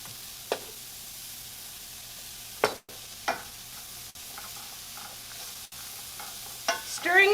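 Onions sizzle gently in a pan for a green shakshuka, a low steady hiss broken by a few sharp utensil scrapes and stirring clatters, ending in a burst of livelier crackle.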